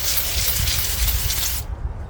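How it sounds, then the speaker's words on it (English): A close, continuous aerosol spray of parts cleaner hisses for about a second and a half, then cuts off abruptly, leaving a low rumble. "take some parts cleaner, a rag or a kitchen paper, spray a bit"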